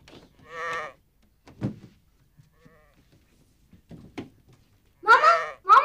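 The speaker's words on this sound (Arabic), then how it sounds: "شو جاي؟ خروف." A sheep bleats twice, a wavering cry near the start and a louder, longer one at the end, with scattered thumps and quiet gaps between them.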